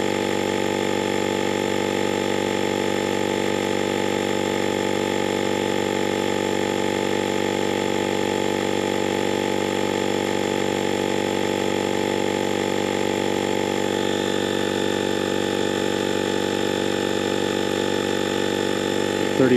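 A GOOLOO portable battery-powered air compressor tire inflator runs continuously, a steady buzzing motor hum with a faint rhythmic pumping texture and a slight shift in tone partway through.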